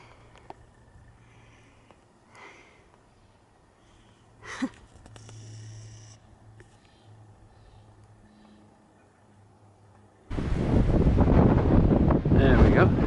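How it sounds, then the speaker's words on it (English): Wind buffets the microphone on a mountain ridge. It stays low and rumbling at first with faint scattered noises, then turns into loud, roaring gusts over the last few seconds. "Still a wee bit windy."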